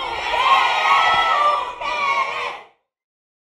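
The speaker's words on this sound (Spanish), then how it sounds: "El grito más poderoso." A crowd shouts and cheers together loudly, a sustained roar with a brief dip, then cuts to silence before a short burst at the end.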